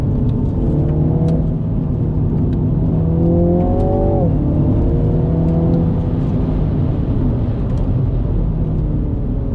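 A MINI John Cooper Works GP3 engine revs up accelerating in second gear, its pitch climbing and then dropping as it shifts, a steady loud drone throughout.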